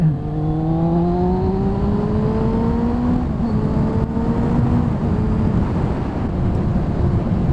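A motorcycle rides along a road, its engine note rising steadily through the gears with continuous wind buffeting over a helmet-mounted camera, loud and close throughout with no talking.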